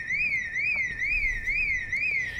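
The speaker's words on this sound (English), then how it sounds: "Why are there alarms in this game now?" A car alarm in the video game Project Zomboid wails with a steady, looping up-and-down siren tone, loud and continuous, with no voices over it.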